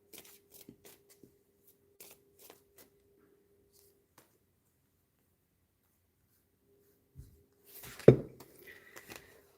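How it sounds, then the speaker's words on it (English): A deck of cards being shuffled nearby, one brisk riffle-and-bridge burst standing out late after a few light taps and card handling sounds, with no talking. "I literally shuffled the cards and I got the same cards I've been pulling."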